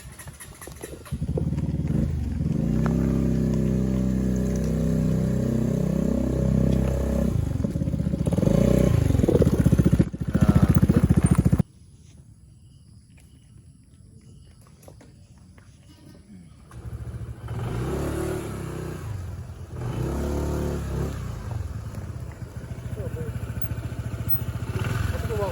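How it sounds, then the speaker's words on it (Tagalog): Motorcycles being moved and revved at a campsite in San Mateo, Rizal: a loud, steady engine drone with revs runs for about eleven seconds, cuts to quiet, then returns more softly, with people talking nearby. "lilipat ko lang yung motor ko dun sa may baba"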